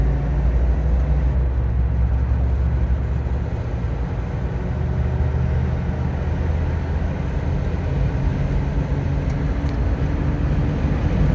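A 1997 Lexus LX450 drives in power mode, its engine droning steadily under heavy road and wind noise as it accelerates, with gear shifts faintly blurred into the constant rumble, heard from inside the cabin.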